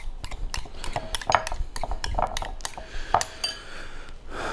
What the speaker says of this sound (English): Go ahead and give it a little stir.